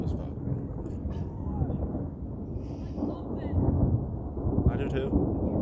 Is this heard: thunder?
yes